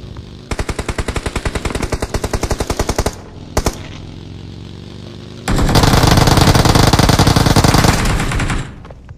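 Automatic gunfire in the BGMI battle royale game: a fast burst of shots, one brief isolated blast, then a long, loud, sustained stream of rapid fire, with no talk.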